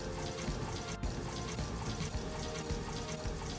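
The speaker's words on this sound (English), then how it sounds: "So give them a nice little rinse and right into the bowl." Soaked chickpeas being rinsed under running tap water, a steady close splash and trickle of water filling and washing in a sink throughout, with no talking.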